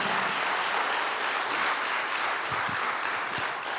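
A church congregation applauds in a dense, steady wash of clapping that holds for several seconds without a break, loud and close.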